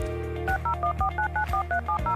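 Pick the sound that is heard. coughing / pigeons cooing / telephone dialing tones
telephone dialing tones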